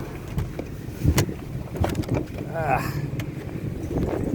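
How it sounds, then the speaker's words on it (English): Wind buffets the microphone while driving along Highway 101 toward Newport, a rough, rumbling roar with a voice talking over it. "I know you can't hear nothing because of the wind"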